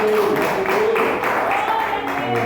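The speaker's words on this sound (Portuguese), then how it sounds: "louva a Deus com as tuas palmas bem alegres para Jesus" A church congregation applauds and claps hands for Jesus at a Portuguese-language service, a steady wash of clapping heard under a sustained singing or speaking voice.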